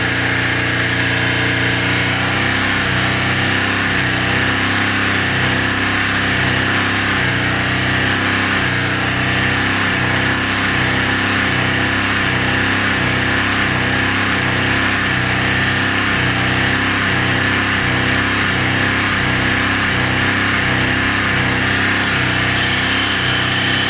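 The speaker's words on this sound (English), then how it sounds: "I'm going to put the engine conditioner now on the engine and we're going to keep the revs going." Car engine held at steady high revs while Threebond engine conditioner is sprayed in, a loud continuous mechanical drone with a regular pulsing beat throughout.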